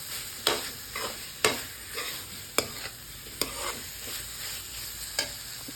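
Fried mixed vegetables are stirred in a pan for sabzi, with a soft sizzle under a regular series of sharp scraping strokes of a spoon, about one each second.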